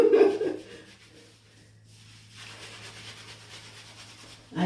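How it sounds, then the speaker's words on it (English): Hands rubbing lengths of hair locs while they are washed during a retwist, a soft close-up scrubbing and rustling that swells at the start, eases off, then returns more steadily, with no talk. "I usually section it and just rub it like that to get the length out."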